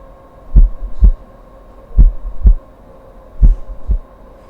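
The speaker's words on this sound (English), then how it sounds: "But this time, it was my own heartbeat." Heartbeat sound effect with three pairs of deep, thumping double beats at an even pace, loud and close over a faint steady hum.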